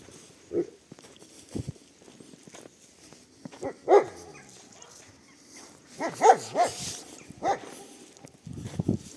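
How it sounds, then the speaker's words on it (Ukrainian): A dog barks several times in short bursts outdoors on a snowy winter street in Truskavets, fairly close, with some whimpering and footsteps between the barks. "пес з нами вітається гарно"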